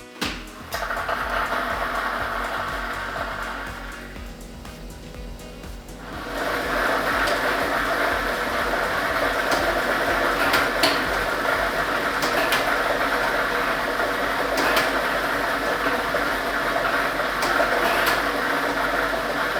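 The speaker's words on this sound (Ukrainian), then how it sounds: "Тиражна комісія до початку гри довільно обрала лототрон А комплект кульок номер 4 І ми вмикаємо лототрон." A lottery drawing machine loaded with numbered balls whirs after a brief lull, then runs continuously with a steady mechanical rumble and faint clattering of the balls, with no voices over it.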